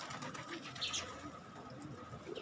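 Domestic pigeons, a pair kept together, coo softly at a distance in a quiet spot. The low, gentle calls repeat a few times over steady faint background noise.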